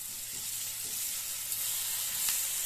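Onion and tomato sauté in a pan with paneer and capsicum, giving a steady, close sizzle of frying throughout with faint stirring and no voices.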